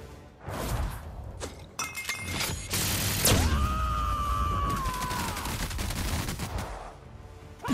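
Gunfire pours into an armored enemy in The Outer Worlds, loud dense shots with metallic shattering impacts and a ricocheting whine, continuous for several seconds at close range.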